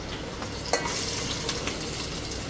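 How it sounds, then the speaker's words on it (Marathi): Chopped capsicum frying in hot oil for chicken noodles, a steady loud sizzle with occasional scraping clicks of a spatula stirring the pan. "तर आपण त्याच्या तेलामध्ये आपण त्याला फ्राय करणार मस्त."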